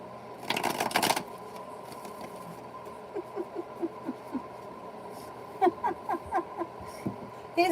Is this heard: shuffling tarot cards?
yes